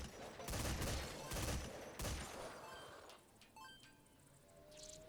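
Gunfire in the Metal Gear Survive video game, in a shooting-gallery fight, comes as several loud, rapid volleys close together, then thins into scattered distant shots and faint effects.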